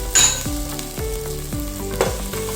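Garlic and ground ginger fry in a pan while being stirred, giving a steady close sizzle with rhythmic scraping strokes of the spoon about every half second.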